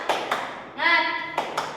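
A class of young students does a rhythmic clap chant: two sharp claps, then a short chanted group voice, then two more claps, close and crisp.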